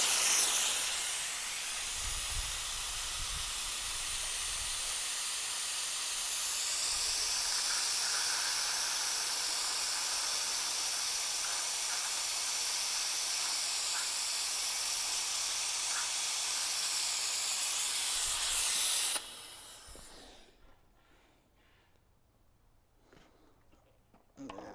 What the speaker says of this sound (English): So we'll get this sucked out, get it replaced